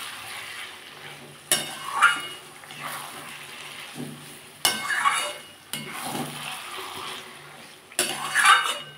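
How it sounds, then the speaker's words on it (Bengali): Cauliflower paste fried and stirred in a pan, with repeated scraping and clattering of a spoon against the pan in bursts over a soft, steady sizzle, close by and fairly quiet. "আমি ফুলকপি বাটাটা দিয়ে দিয়েছি। এবার এটা ভালো করে ভেজে নিতে হবে।"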